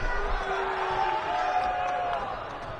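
Crowd noise at a men's college basketball game in Walla Walla, a steady loud roar of cheering and whoops that eases slightly toward the end, with voices mixed throughout.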